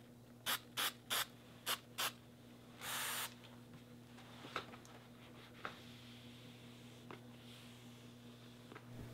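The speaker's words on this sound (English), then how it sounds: "lifting it up and spraying adhesive." Several short, sharp sprays of aerosol adhesive hiss in quick bursts while trimming car door panels, followed by one longer spray, then a quiet hum with faint scattered taps.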